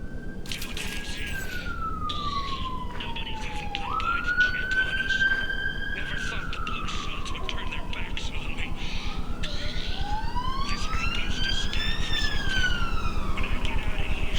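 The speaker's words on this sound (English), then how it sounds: "Shut up, siren." A wailing siren in the video game Mass Effect 2 sweeps up and down in long, slow glides, loud and continuous throughout over a steady background hum.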